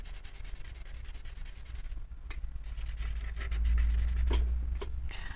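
Colored pencils shading across paper in a steady, soft scratching stroke, close by and quiet, with a few sharper ticks near the end.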